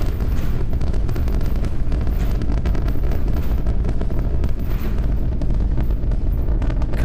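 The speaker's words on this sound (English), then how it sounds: "33 out of 33 Raptor engines lit on the Super Heavy booster, arcing away from us here at Starbase" Super Heavy booster of a Starship rocket climbing away from Starbase with all 33 Raptor engines lit, a continuous dense low roar with crackling rumble, loud and steady throughout with no speech.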